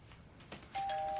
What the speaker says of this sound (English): Doorbell's ringing.